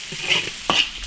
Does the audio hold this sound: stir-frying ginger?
yes